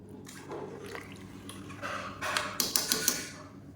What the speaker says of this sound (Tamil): இப்போ பாருங்கள் கொதி பிடிச்சி